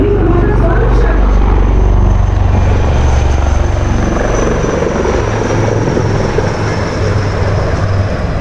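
A formation of Rudra helicopters passing low over a Republic Day parade, with a loud, steady rotor and engine roar filling the whole stretch and faint crowd noise beneath.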